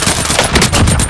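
Automatic gunfire rattles loud and close in a military shooter video game, a dense burst of rapid shots filling the short moment with no voice over it.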